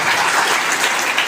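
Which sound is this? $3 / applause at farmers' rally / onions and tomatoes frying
applause at farmers' rally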